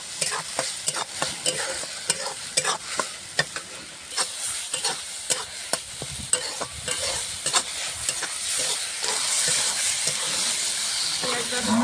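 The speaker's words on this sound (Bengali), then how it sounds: "পেঁয়াজটা কষিয়ে নেবো আগে।" Onion paste frying in a pan after whole cumin and bay leaf tempering, with steady sizzling hiss and repeated scraping stirs from a spatula at close range, no talk.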